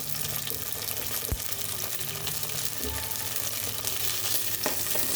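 Tomatoes fry in a pan, a steady broad sizzle with occasional stirring clinks and scrapes, close and continuous with no talking.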